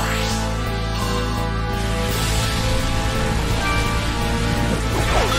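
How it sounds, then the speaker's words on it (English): Heavy pouring rain in the video game Pokémon Battle Revolution, a steady loud wash of downpour running throughout, layered with continuous background game music. "It's pouring rain in the Colosseum."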